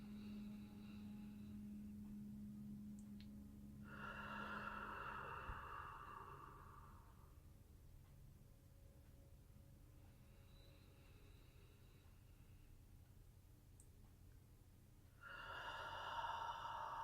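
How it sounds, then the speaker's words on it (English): Slow, deep breaths drawn in through the nose come as two soft, drawn-out airy swells separated by quiet pauses, faint and close in a hushed setting. "deep breaths through your nose."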